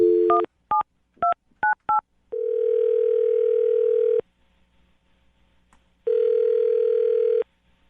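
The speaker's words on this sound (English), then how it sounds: "I'm going to dial his phone number right now" A quick series of touch-tone dialing beeps, then two long electronic ringback tones separated by a pause, clear and close.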